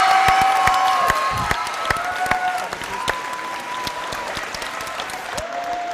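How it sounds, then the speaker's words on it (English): A fight night crowd at a grappling event applauds loudly and steadily with scattered cheers and whistles, while a voice talks over the clapping. "This crowd's erupting with joy, celebrations"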